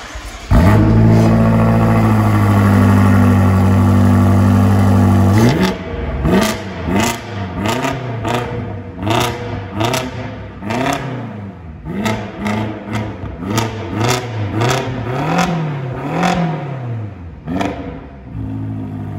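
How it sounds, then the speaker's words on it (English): A BMW X5M fitted with a Dinan Stage 2 exhaust starts with a loud, steady roar at idle, then blips through a rapid series of sharp revs and throttle pops, close and alone for almost twenty seconds. "Let's go ahead and start it up for you right now."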